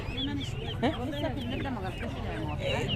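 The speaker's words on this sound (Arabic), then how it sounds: "فراخ البلد الحره اهي يا جماعه" Free-range native chickens clucking at an Egyptian animal market, with repeated close calls over a busy background of market chatter and voices.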